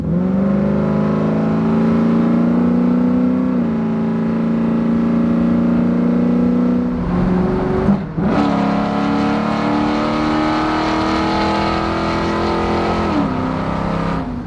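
A classic car's engine accelerates steadily onto the freeway, with a loud, sustained drone that rises in pitch through two gear changes and a brief lift of the throttle, heard close up from inside the car and with no talking.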